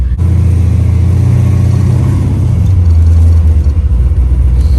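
A twin-turbo Cutlass 442 with a built 427 cubic inch engine and 4L80E automatic drones steadily under load in overdrive on a test drive, a loud continuous low engine note with no talking.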